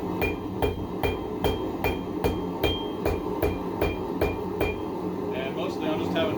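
Hammer blows ring out on hot metal at a blacksmith's anvil in a steady rhythm of about two strikes per second, each a sharp metallic clang, close and loud, with a voice faintly underneath.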